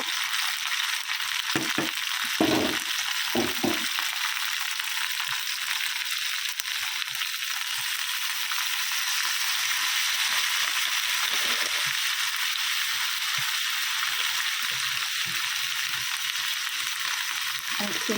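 Cumin, ginger and green chillies sizzle in hot oil in a pan, a steady bright frying hiss that runs on throughout with a few soft stirring knocks and brief gaps.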